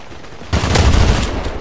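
Sudden burst of rapid gunfire in the video game CrossFire that keeps rattling on, loud and dense, after a quieter lead-in.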